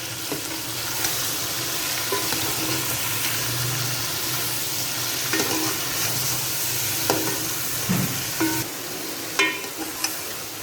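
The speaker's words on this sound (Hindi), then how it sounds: "अब हम इसके अंदर डालेंगे लहसुन और अदरक का पेस्ट, और 2 मिनट के लिए चिकन को करेंगे फ्राई अच्छे से।" Chicken frying with garlic and ginger paste in a pot for shahi chicken korma, a continuous loud sizzle with occasional stirring knocks and scrapes close by, no speech.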